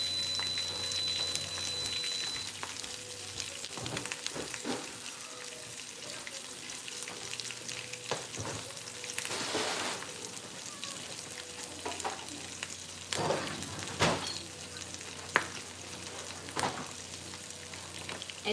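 Bacon fries in a pan turned down to 350, giving a continuous soft crackling sizzle with scattered pops and occasional scraping clicks.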